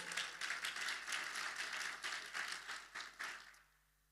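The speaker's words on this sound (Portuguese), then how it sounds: "Você pode dar um aplauso bem forte ao Senhor?" A church congregation gives a round of applause to the Lord, soft steady clapping from many hands that fades out near the end, heard quietly at a distance with no speech.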